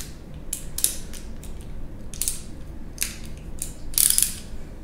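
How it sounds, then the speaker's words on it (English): Screw being tightened on a Burton Step On snowboard binding release lever, a handful of short, close ratcheting clicks and creaks spaced out in bursts with quiet gaps between. "Hold that inside nut so that it doesn't spin on you. And then start tightening that screw."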